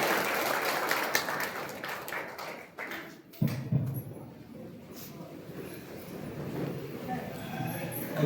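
An audience at a tribal trust gathering breaks into loud applause at first, which fades out partway through and gives way to speech.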